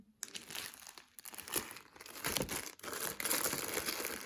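Plastic zip bag holding glass rhinestones for diamond embroidery crinkling and rustling up close, steady crackly handling with brief pauses, no voices.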